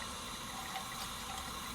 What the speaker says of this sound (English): we can run a bit of water down there